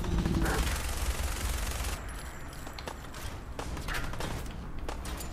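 Rapid bursts of gunfire in the video game Fallout 4, loud and close, dense at the start and continuing with scattered shots and mechanical clatter, with no talking.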